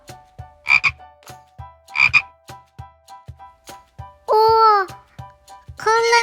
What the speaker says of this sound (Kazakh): Бақа.